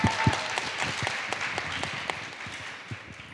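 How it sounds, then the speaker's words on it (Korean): Applause from a crowd at a Korean heritage event, a continuous patter of many hands with a few sharper, louder claps near the front, sustained at moderate level and gradually thinning slightly toward the end. "박수 한번 주세요."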